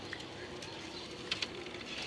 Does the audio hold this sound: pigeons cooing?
yes